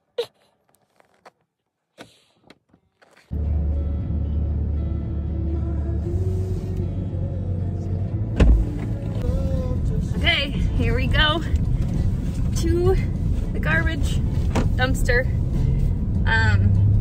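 A car drives along a winter road with a steady, loud engine and road rumble, after a few faint knocks at the start. People talk over the noise.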